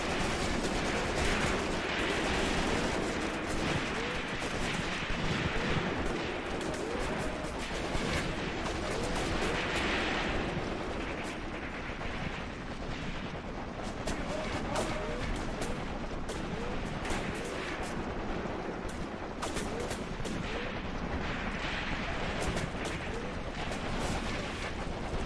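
Artillery blasts and gunfire from the war game Graviteam Tactics keep up a dense, continuous barrage of overlapping shots and booms for the whole stretch, fairly loud, with scattered sharper cracks standing out.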